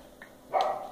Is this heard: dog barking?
yes